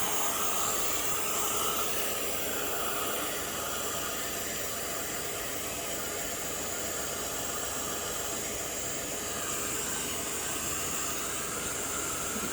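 A heat tool blows a continuous steady whooshing hiss while drying spritzed Tim Holtz Ideology colored kraft card stock, constant and close throughout.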